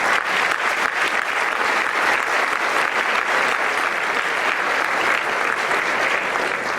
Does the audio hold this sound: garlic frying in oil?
no